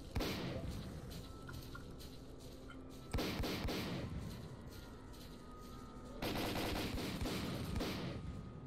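Sustained automatic gunfire from the S.T.A.L.K.E.R.: Call of Pripyat video game, dense rattling bursts running nearly continuously with brief shifts in intensity and occasional sharper blasts, loud and close.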